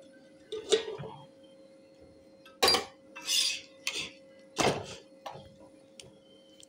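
Dishes and a feeding bottle being washed by hand, with a handful of separate clinks and clatters of vessels knocking together over a steady low hum, no talking.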